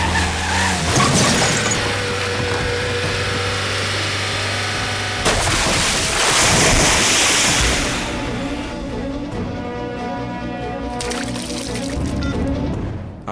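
A car driving in an action film scene: a loud engine roar with tire skids and squeals, surging through a sharp burst midway and running on steadily before easing.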